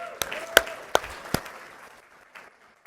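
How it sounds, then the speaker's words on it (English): A few scattered claps from a conference audience at a congressional event, four sharp separate hand claps in the first second and a half, then fading to near quiet. "We can clap for Indiana."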